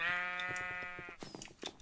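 A sheep bleats loudly in a chaotic video game where sheep serve as weapons, one long wavering cry followed by sharp, clattering game hits and bursts.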